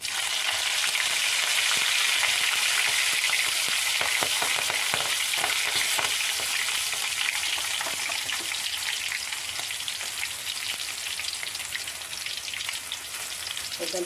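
Green chilies frying in hot oil for a chicken curry, a dense steady sizzle with crackling pops across the whole span, loud and close with no talking.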